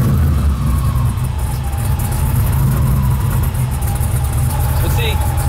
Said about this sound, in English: So we'll try starting the car now